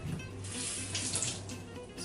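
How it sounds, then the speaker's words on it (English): Kitchen sink tap running water in a steady, close, continuous stream with no talk over it. "I'll come over to my sink here."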